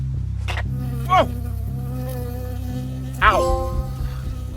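An insect buzz from a bee in the video game Firewatch whines through two short swooping passes over a steady low musical drone, close and fairly loud.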